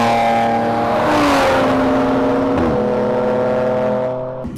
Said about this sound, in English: just listen to this thing as it's going down the street.